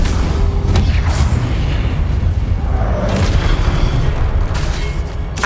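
A Confringo blasting curse in Hogwarts Legacy, rendered as a loud, dense booming explosion with continuous deep rumble and crackling debris that fills the whole stretch without letting up.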